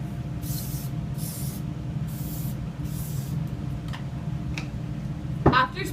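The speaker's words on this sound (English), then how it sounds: "After spraying the adhesive spray," Adhesive spray is applied to an athlete's ankle before taping, in four short hissing bursts spaced evenly apart, followed by a few faint ticks and a light knock.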